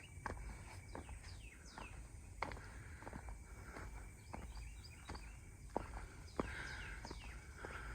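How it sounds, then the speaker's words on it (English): Frogs drone and whine steadily along the Panther Canyon Trail in New Braunfels, Texas, in July, a continuous insect-like hum under scattered bird chirps and soft footsteps. "you also hear like a droning, whining sound. Those are frogs."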